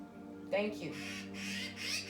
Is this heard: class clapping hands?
no